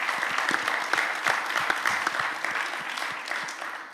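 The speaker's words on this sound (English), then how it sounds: "I'd just like to give another round of applause to our panelists for their thoughtful answers." Audience applause for a panel of young Saskatchewan leaders after a question session, a steady sustained clapping from a crowd filling the whole clip, dense and moderately loud with scattered sharper claps and no talk.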